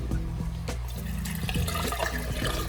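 RODI water is poured into a funnel to rinse it during reef aquarium upkeep, giving a short, close splashing pour that runs for about three seconds with a few small gurgles.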